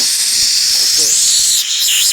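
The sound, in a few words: nitrous bottle gas hissing from leaking fitting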